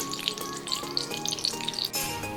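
Curry leaves, mustard seeds and dried chillies sizzling in hot oil, a close, crackling fry with scattered sharp pops and spits over a steady hiss.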